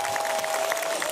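A crowd at a Christian gathering claps in a brief, steady burst, with a sustained high tone running through the applause.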